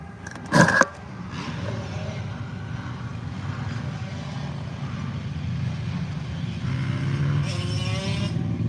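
Car traffic rumbles continuously through a city street, engines droning close and steady for several seconds, with a sharp bang near the start and hissing swells as vehicles pass.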